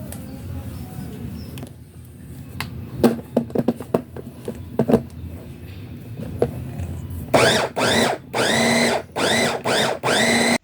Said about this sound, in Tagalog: So, i-blender na natin.